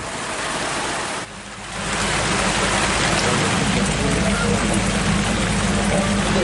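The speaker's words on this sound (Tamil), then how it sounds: "கொடைக்கானலில் சுமார் 1 மணி நேரத்திற்கும் மேலாக கனமழை பெய்தது" Heavy rain pours down in Kodaikanal as a dense, steady roar close by, with a brief dip in intensity near the start before it settles into an unbroken wash.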